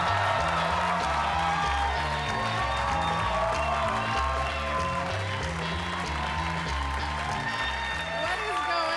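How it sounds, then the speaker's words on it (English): A comedy club crowd in New York applauds and cheers over loud, steady music, with claps and whoops blending into a continuous wash and a voice running through it. "Applause for Kendra Cunningham, everybody."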